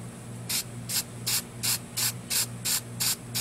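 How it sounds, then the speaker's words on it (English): Camouflage spray paint hisses from an aerosol can onto a piece of wood in about nine short, evenly spaced bursts over a low steady hum. "using camouflage spray paint, we are going to unleash the demon."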